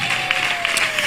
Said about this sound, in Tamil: கைதட்டு கர்த்தருக்கு ஒரு மகிமை.